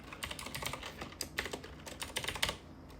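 Fingers tap quickly on a computer keyboard in a quiet room, a dense run of light clicks with brief pauses and no talking.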